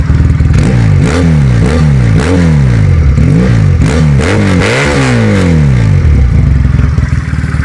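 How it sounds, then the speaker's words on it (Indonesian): Loud, close 2019 Benelli Patagonian Eagle 250 carburetor motorcycle engine revved hard in repeated rapid bursts, pitch rising and falling again and again, throttle blipped in quick succession. "nah kalau lagi digeber-geber"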